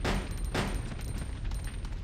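Rapid shots from twin pistols in Resident Evil Code Veronica X crack out in a dense, loud burst that runs for about two seconds, with sharp hits standing out of a continuous clatter.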